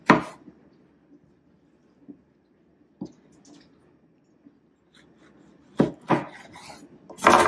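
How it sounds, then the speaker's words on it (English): Two jalapeño peppers are chopped and seeded with a knife, giving scattered soft cuts and scrapes on a board that build into a few sharper, louder knocks near the end, with no talking. "Now I am chopping and seeding out. I don't want the seeds. 2 jalapenos."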